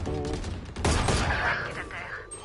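Rapid gunfire rattles in the video game Valorant, a dense burst of shots mixed with game sounds while a voice talks over it.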